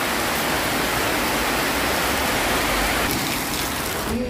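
Heavy rain pouring steadily into a patio, a dense continuous hiss of water splashing on a hard surface nearby, with no voices.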